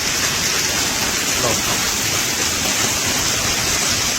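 Heavy, dense rain with hail pours down in a constant loud hiss, steady throughout with no break or voices.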